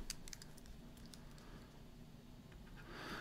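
Keys on a financial calculator are pressed in quick succession, a few soft, close clicks at the start and again near the end, faint and without speech.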